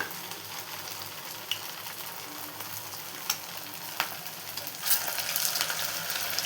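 Sago vadas frying in oil over a medium flame give a steady, close sizzle with small crackles and a few sharp pops, unbroken by speech.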